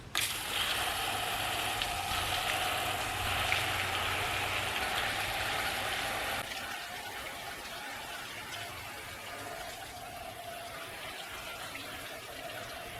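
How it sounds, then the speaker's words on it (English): Water from a hose pours steadily over microgreen trays during rinsing, a continuous broadband rush that drops to a softer flow partway through, with a low engine-like hum underneath. "I'm gonna give these trays a good rinsing."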